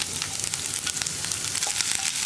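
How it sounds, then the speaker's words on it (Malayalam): Sliced onions added to hot oil with popped mustard seeds for a carrot and papaya mezhukkupuratti, a loud, dense, continuous sizzle and crackle with no voices over it. "നമുക്കിതിലേക്ക് കട്ട് ചെയ്ത് വെച്ചിരിക്കുന്ന സവോള ചേർക്കാം"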